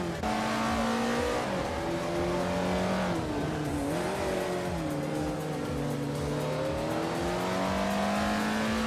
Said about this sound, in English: Mikkel Broadcast is driving a vintage 1972 de Tomaso Pantera GTS